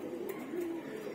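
Giribaz pigeons cooing nearby, a soft low warbling coo drawn out over about a second, faint and close.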